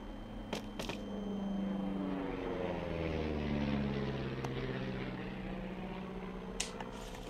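A propeller airplane flying overhead in the video game Firewatch, a steady droning engine hum that rises and sweeps slightly in pitch as it passes, moderately loud and alone, with a few faint clicks.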